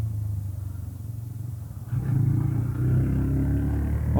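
A TVS Raider 125 motorcycle picks up speed on a test ride, its low engine rumble swelling noticeably about halfway through as the throttle opens, steady and close with no talking.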